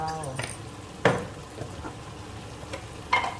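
Pork and eggplant stir-frying in a pan, a low sizzle under sharp scrapes and clanks of a utensil against the pan, with a few louder strikes spaced apart and a voice faintly at the start.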